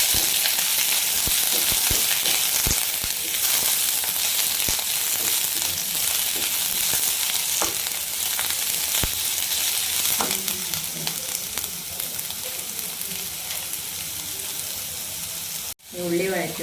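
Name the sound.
sautéing onions in a pan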